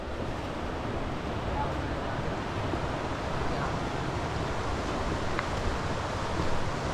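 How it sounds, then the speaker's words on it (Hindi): Wind blows steadily at a jungle riverbank, a continuous broad rushing hiss with faint water wash, while a voice talks quietly over it. "और देखो हवा शुरू"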